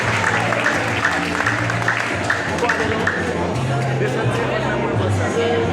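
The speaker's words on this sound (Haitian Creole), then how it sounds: "Applaudissez-le très fort," Audience applause at an awards ceremony in Bralo honoring a second-place laureate, steady and dense throughout, with crowd murmur mixed into the clapping.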